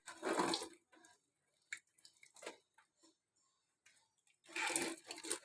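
A weak trickle of water from a clogged RO water purifier, with short bursts of splashing flow separated by near silence and faint drips.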